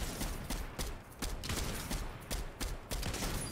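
Rapid bursts of gunfire in the video game Fortnite, sharp overlapping shots in quick irregular clusters that repeat steadily over a few seconds at a moderate, somewhat distant level.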